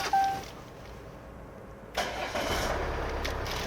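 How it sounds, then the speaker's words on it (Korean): A used car with a push-button start fires up, giving a brief chime and then a sudden engine catch that settles into a steady idle. "자, 이어서 시동 한번 걸어볼 건데요."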